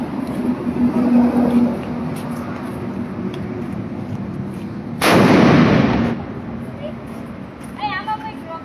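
A Diwali firecracker bursts at an ashram with one loud, close blast that leaves a roughly second-long crackling burst, while voices chatter before and after it.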